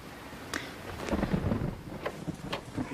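Rain hisses steadily through a thunderstorm while low thunder rumbles and rolls underneath, a continuous dense wash of storm noise with no voices.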